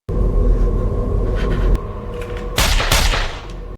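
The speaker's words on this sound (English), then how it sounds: "Zafik doesn't hesitate to shoot her" Gunfire rings out in a revenge action film scene as one man shoots a woman: a steady low rumbling bed is broken by a sharp, loud broadband blast near the end, trailing off with crackling echo.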